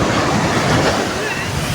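Sea waves rush fast onto a Chennai beach in the evening, a continuous loud, broadband roar of surf mixed with gusty wind buffeting the microphone.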